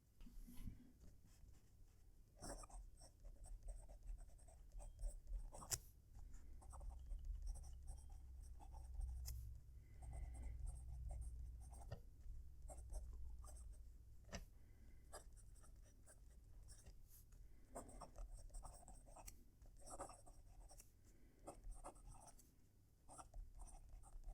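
Close-miked scratching of a Pilot Custom Heritage 92 fountain pen nib gliding across paper, a steady soft scratch with brief strokes and pauses, continuing alone without any talking.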